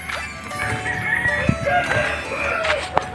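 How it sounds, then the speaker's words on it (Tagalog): Chickens at a meat-breeding farm cluck and call all around, with several overlapping fowl voices and a couple of sharp louder squawks near the microphone, against a busy outdoor background. "Puro po ito manok sa paligid."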